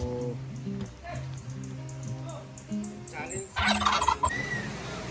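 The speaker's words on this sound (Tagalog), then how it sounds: "may pabo." Turkeys gobble repeatedly in a rapid warbling chorus on a farm, close by, with voices and chatter mixed in around them.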